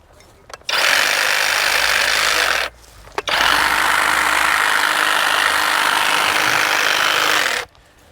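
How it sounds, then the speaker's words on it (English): A trimmer roars while cutting bushes at night, in steady loud bursts: a short run, a long stretch of several seconds, a brief pause, then another long run that cuts off sharply. "we'll come back here and grab the trimmer again"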